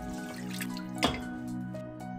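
Washing water drips and trickles off soaked moong dal, with a few small splashes and one brief louder splash midway, over a steady background hum.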